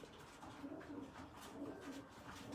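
Racing pigeons coo repeatedly in a loft, soft rhythmic low calls at moderate distance over a faint background of scratching and shuffling, no voices.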